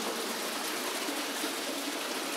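The underground river Permyanka in Perm flows through a tunnel beneath the city streets, a dense, continuous close rush of water that fills the space evenly without pauses.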